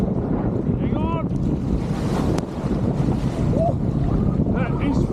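Strong wind buffets the microphone out on the water at an inlet, a constant loud low rumble and roar. Faint bird calls rise briefly above it.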